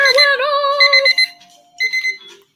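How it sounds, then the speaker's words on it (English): A kitchen-style countdown timer sounds at the end of a remote writing session, giving a loud melodic electronic alarm tune, then a brief pause and a shorter second burst, with no talk over it. "Our timer went off!"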